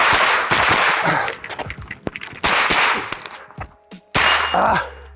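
Sharp gunshots crack in quick pairs and short bursts, loud and close, echoing across an outdoor range with brief pauses between volleys.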